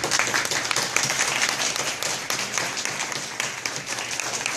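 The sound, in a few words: audience applause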